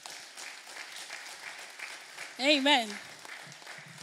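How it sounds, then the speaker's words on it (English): A church audience at a Black history celebration in Leicestershire claps softly and steadily, while a single voice calls out briefly over the applause. "Can we give God a round of applause?"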